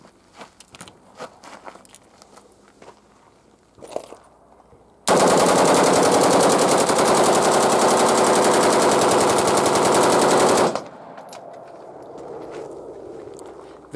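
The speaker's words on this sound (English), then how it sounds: "I'm going to do a full 60-round burst here, and we'll see how that goes" A single long full-auto burst of about 60 rounds from a firearm on a shooting range, loud and dense for roughly six seconds, with quieter handling and movement noises before and after.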